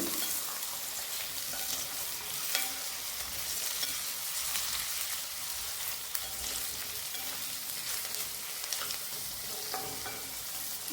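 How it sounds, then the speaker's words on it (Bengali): Potatoes fry in oil for a dry okra and potato side dish, a soft, even sizzle with light stirring scrapes, fairly quiet and steady throughout, with no voices. "তেলে এরকম ভালো করে ভেজে নিয়ে একটু আলুটাও ভালো করে ভেজে নেব"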